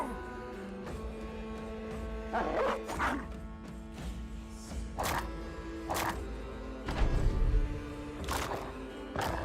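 A dog in the video game Battle Brothers barks and yips in several short, sharp bursts amid busy in-game combat noise, with a voice talking at times.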